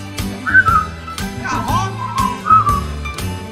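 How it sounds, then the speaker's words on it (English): A person whistles a cheerful melody over a music track, the clear tones rising and falling in two short phrases against steady backing instruments. "just purse your lips and whistle, that's the thing"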